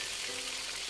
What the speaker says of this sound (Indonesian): tinggal digoreng aja, ditunggu pakai minyak yang panas ya. Ingat ya, minyak panas, api besar, minyak panas kalian masukkan.